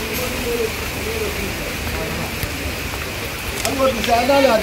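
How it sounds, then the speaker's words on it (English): Heavy rain pours down in Sukuta, The Gambia, a dense, steady hiss of drops on surfaces, with faint bird calls near the end. "it is raining more heavily"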